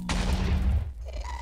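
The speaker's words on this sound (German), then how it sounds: "War nur die Explosion" A Minecraft explosion bursts out in a single loud, deep boom that rumbles and fades over about a second.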